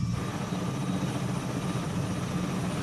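A V-22 Osprey tiltrotor aircraft comes in to land in a flight simulation game, with a steady, dense rotor and engine roar that holds even and loud throughout, without talk.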